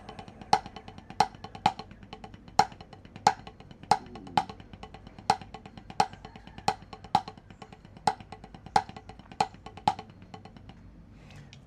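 Drum kit played in a paradiddle-diddle and paradiddle sticking phrase: a steady run of sharp, evenly spaced stick strokes with regular accents, played alone and close.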